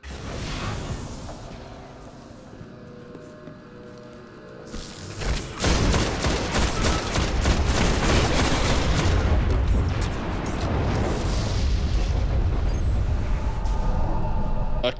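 Gunfire in the Destiny shooter game, played as a Titan: after a quieter start, dense rapid shots and heavy booms erupt and keep up a loud, continuous barrage to the end.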